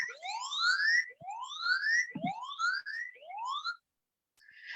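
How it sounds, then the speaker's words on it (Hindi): A phone's siren alarm wails in repeated rising whoops, several quick sweeps in a row, loud and close, sounding even though the phone is set to silent. "आप देख सकते हैं यहाँ पे सायरन बज रहा है"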